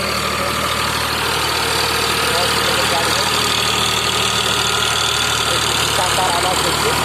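Eicher 551 tractor engine idling with a steady, loud, continuous mid-pitched rumble and slight knock, close up, with no pauses.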